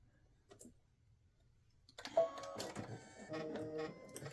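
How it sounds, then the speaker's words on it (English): An embroidery machine starts up after a quiet pause and stitches with rapid mechanical clicking and whirring, close and fairly soft, with no talk. "I'm going to stitch over it"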